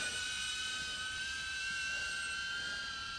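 A small drone in flight gives a steady, high-pitched whine and buzz from its motors, continuous and unbroken, with no talk.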